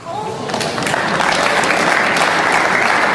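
Snooker crowd at the Northern Ireland Open applauding a 125 break in a Judd Trump versus Shaun Murphy match, steady loud clapping that swells after the first half second and holds.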